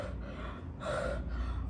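Breath blown into a bottle of oil to charge it: a close, airy exhale with a stronger gasp-like burst in the middle, alone without any talk.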